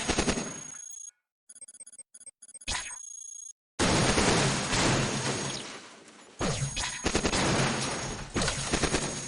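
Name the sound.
EM weapons firing at sentry in video game Cogmind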